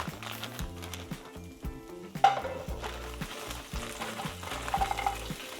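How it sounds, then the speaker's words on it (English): Frozen vegetables, broccoli among them, stir-frying in a lightly oiled pan with Dollar Tree ingredients, steady sizzling under repeated scraping and clinks of a utensil against the pan, close and moderately loud, no talking. "I'm going to put a little tiny bit of oil in this pan, and we're going to stir fry some of these straight."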